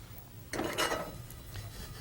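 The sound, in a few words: cumin seeds being sautéed and stirred in a heavy pan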